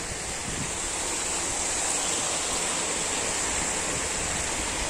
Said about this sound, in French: Regarde comme cette rivière est très jolie. Il y a un beau débit là.